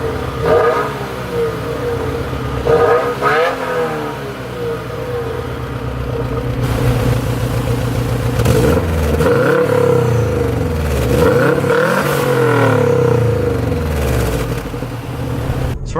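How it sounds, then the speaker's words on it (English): Subaru WRX turbo car accelerating slowly on the road, with the engine note rising and falling in several sweeping pulls, heard steadily from inside the car with no talking. "So just doing a slow acceleration like that."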